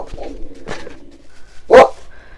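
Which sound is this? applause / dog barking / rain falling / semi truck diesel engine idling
dog barking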